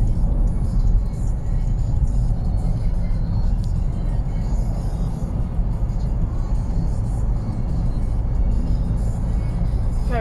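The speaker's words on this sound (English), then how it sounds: "1, 2, 3, 4 cars at the moment." Cars travel along a road during a UK lockdown, a steady low rumble of engine and tyre noise heard from the roadside for about ten seconds with faint talk.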